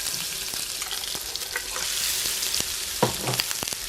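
Minced fish cakes, kneaded until springy, pan-frying in hot oil with a steady sizzle and sharp crackles, along with a few clicks and scrapes from a spatula or turner, alone and close up.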